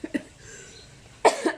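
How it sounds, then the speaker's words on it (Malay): Coughing from a person, with two short muffled coughs at the start and a louder, harsher burst of coughing near the end, alone with no talk. "Batuk"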